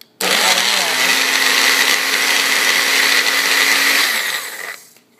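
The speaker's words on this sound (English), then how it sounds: "now I'm going to go ahead and pulse these beans" A blender pulses pinto beans and walnuts in a loud, steady whir that runs about four seconds, then winds down and stops.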